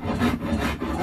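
A rasp scrapes along a yew bowstave limb in a few quick rough strokes, close and continuous.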